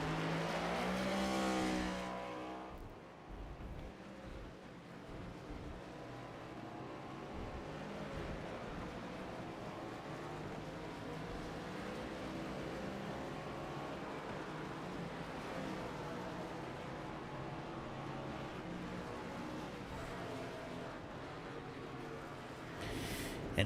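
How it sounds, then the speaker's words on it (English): Winning race car at an Indy Grand Prix, an open-wheel racer, droning steadily at a distance through a long continuous engine note, a brief louder burst at the start, with crowd ambience around and no clear talk. "But your winner, Enzo Hoseta, he'll come back around and do some burnouts"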